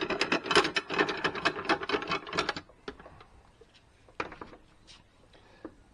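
Vise on a Hafco BS5V band saw pulled back by hand, a rapid burst of metallic scraping and rattling for about two and a half seconds, then quiet with a couple of light clicks.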